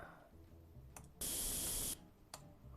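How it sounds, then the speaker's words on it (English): A spray burst from a tool cleaning a tank part in Tank Mechanic Simulator, a steady loud hiss lasting under a second, framed by faint clicks before and after. "Let's give that a bit of a spray as well, just for efficiency's sakes."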